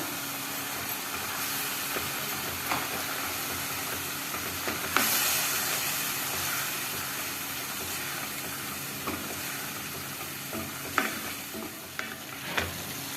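Tomato paste sizzles steadily in a hot frying pan, a continuous close hiss with occasional spatters and stirring scrapes, no voices.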